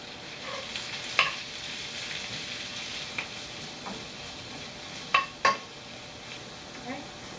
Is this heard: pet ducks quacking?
no